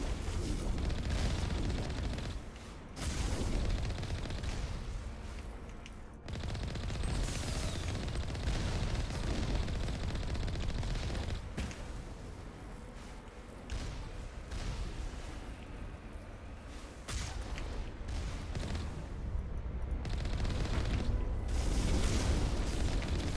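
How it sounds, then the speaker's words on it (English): Enemy turrets firing in Mass Effect Legendary Edition, a sustained barrage of deep booming blasts and rumbling impacts that continues almost without pause, loud and dense throughout. "Oh, yep, those are turrets."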